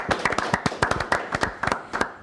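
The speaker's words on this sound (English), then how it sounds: "So round of applause for John!" A small group clapping in an evening session, sharp, close individual claps in a quick irregular rhythm for a couple of seconds, no voices.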